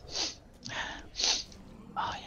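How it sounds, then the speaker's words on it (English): A few breathy, hissing bursts in a row, like someone building up to a sneeze and letting it out, close and fairly quiet. "Oh shit, I gotta sneeze"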